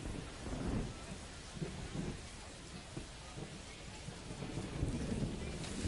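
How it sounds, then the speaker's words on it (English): Steady rain with low rumbling thunder in a baseball game from MLB The Show 25, a continuous wash of rainfall holding at an even level throughout with deep rolls of thunder underneath. "This rain is not letting up."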